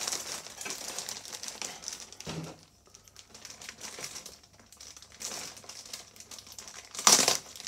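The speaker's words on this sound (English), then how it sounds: "So let's undo this bag and see what we've got inside." A plastic bag of RC model parts, including 3D-printed pieces, is undone close by, with soft continuous crinkling and rustling that dips midway and ends in a sharper crackle.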